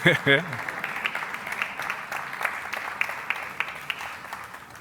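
Applause from a forum audience in Cornellà rises after a brief spoken phrase at the start, then continues as moderate, steady clapping from many people, somewhat distant in the room.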